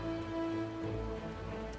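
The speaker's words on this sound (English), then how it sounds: "it's raining now" Rain in Divinity: Original Sin 2, a soft, even wash of falling drops under a sustained tonal music bed, steady and moderately quiet.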